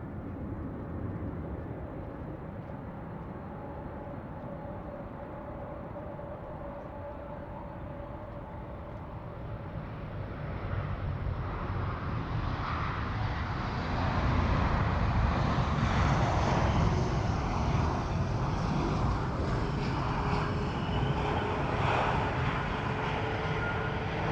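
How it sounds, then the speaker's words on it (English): A British Airways airliner arriving from Glasgow at London City Airport, its jet engine roar building steadily from a distant whine to a loud, broad rumble as it approaches and passes. "next we've got British Airways coming from Glasgow."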